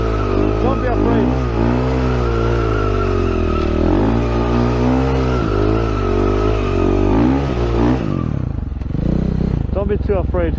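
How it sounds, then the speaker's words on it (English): A motorcycle skids in with its brake locked, drifting sideways: a loud, sustained engine drone with wavering tire squeal over several seconds, then a sharp change as the slide ends, close up. "you gotta skid in, lock the brake, and have the right angle"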